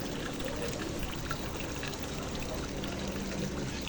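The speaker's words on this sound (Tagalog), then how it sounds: "Gripo din yan, galing sa gripo." Water runs from a faucet in a steady, continuous splashing stream, moderately quiet and unbroken, with no talking over it.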